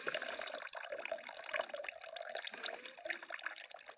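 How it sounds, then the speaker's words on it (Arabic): Sour pomegranate juice trickles and drips steadily as it is strained, a continuous close liquid patter with small splashes and no talking. "انا خوتي كيولا صفو الماء ديالو بحال هكا"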